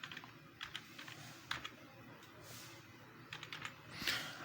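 Someone types a password on a computer keyboard, producing quiet, close, irregular bursts of key clicks with short pauses between them and no talking.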